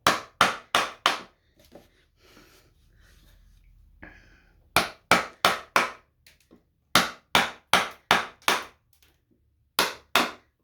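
A chisel carves a leaf shape from cedar wood with sharp, loud, close strikes that land in quick runs of three to five, separated by short quiet pauses with faint rustling.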